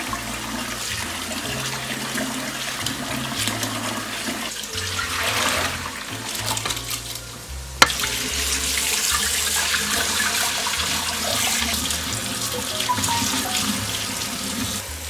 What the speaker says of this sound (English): Just have to wash my lentils.